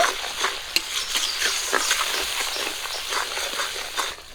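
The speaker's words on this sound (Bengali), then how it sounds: "সব কিছু একসঙ্গে একটু ভাজা করে নিব" Mustard paste, cumin paste, green chillies, chilli powder, turmeric and salt fry together in a pan, sizzling steadily with scraping stirs for a hilsa fish dish.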